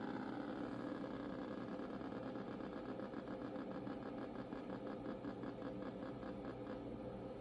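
Spinning wheel in a DOS Wheel of Fortune game on an old Tandy computer, a fast, steady buzzing clatter of rapid clicks from the PC speaker, continuous and slightly slowing, heard alone.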